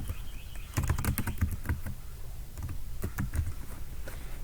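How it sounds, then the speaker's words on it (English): Keys on a computer keyboard are struck in short clustered bursts, including presses of the tab key, with brief pauses between groups; the clicks are close but fairly quiet against a low background hiss. "Now I'm going to hit the tab key again so I can type my subheadings"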